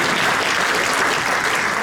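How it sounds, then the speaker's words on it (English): An audience at a talk breaks into warm applause, a dense, even wash of many hands clapping together that fills the room at steady loudness for the whole short stretch, with no voices over it. "Let's clap for that."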